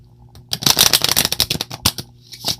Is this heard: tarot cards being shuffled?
yes